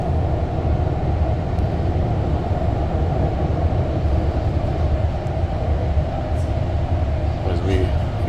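REM light metro train riding at night from Brossard toward Central Station in Montreal, with a steady loud interior rumble and hum of the train in motion and faint higher squeals near the end.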